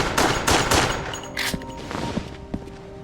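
Rapid gunfire from the Wii game Resident Evil: The Darkside Chronicles, with several sharp, loud bursts in quick succession over a noisy in-game backdrop, then softer scattered shots and clatter.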